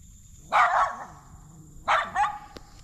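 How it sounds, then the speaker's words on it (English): Loose dogs bark in the woods in two close bursts, the second a quick double bark, fairly loud and clear against quiet surroundings with no talking. "somebody's let their dogs loose"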